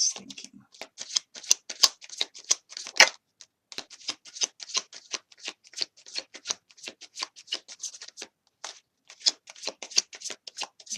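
Tarot cards shuffled for a love reading, a long run of quick crisp riffling flicks repeating steadily with brief pauses, close and fairly soft with no talking.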